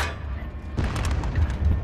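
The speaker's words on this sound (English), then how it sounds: "Sensor shells incoming." Sensor shells burst in MAG, a quiet lull broken by a heavy booming thud that rolls into a series of dull, rumbling impacts, moderately loud and somewhat distant.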